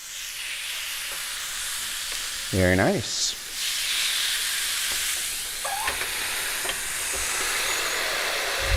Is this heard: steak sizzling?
yes